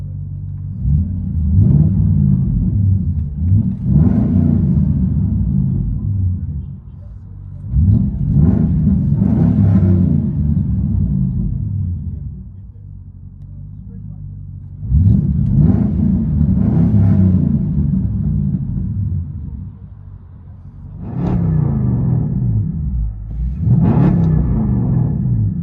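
Cadillac STS with a 4.6L Northstar V8 and true dual exhaust, revved in repeated deep rumbling bursts that rise and settle back to a low idle, close and loud with no talking.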